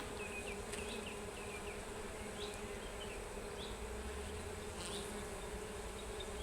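A bee buzzes faintly at a distance, its drone wavering and shifting in pitch against a soft steady background hiss, with no voices.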